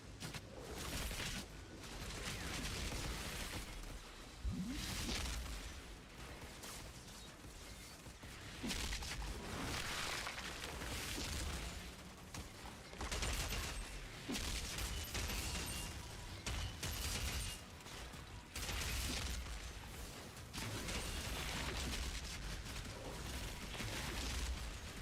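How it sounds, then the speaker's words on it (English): Explosions and gunfire in the video game Outriders, during melee-heavy Devastator combat, keep up loud, dense bursts and booms in repeated waves across the whole stretch, with a continuous clattering action-game mix underneath. "Explosion."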